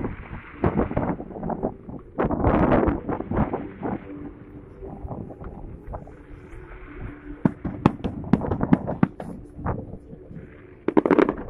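Firebird fireworks go off near the Hermitage during Christmas celebrations, with a run of crackling, fizzing bursts of varying loudness and a closing cluster of sharp pops. A few people talk faintly in between.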